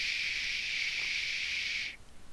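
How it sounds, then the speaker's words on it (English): Aerosol is sprayed into bowling shoes in one continuous, close hiss lasting about two seconds, then it cuts off abruptly. "That's the sound of me spraying out my bowling shoes."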